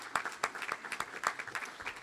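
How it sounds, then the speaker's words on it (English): An audience at a Rotary club meeting claps for three people. The applause is faint and scattered, with uneven individual claps over a few seconds. "Give all three of them a big round of applause."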